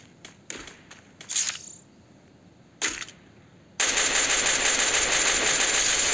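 Video game gunfire: a few sharp isolated shots early on, then after a short gap a sustained dense burst of rapid automatic fire that continues loud to the end.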